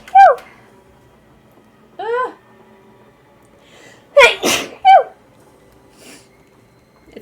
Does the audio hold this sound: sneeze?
yes